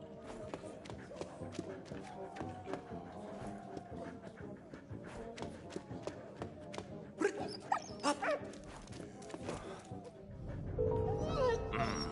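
Dog in the video game Valiant Hearts, with repeated yips and barks popping up over busy in-game footsteps, music and effects, a moderately loud scene that swells louder near the end.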